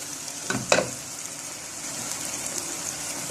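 Grated tomatoes drop into a hot pan for a chicken béchamel pasta, making a brief loud hiss that settles into a steady, close sizzle.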